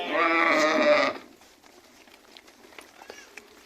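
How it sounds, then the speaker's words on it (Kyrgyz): Arashan sheep returning from pasture give a loud, close bleat lasting about a second, followed by quieter scattered shuffling and faint animal noises from the flock. "Ушул койлор келди жайыттан буюрса."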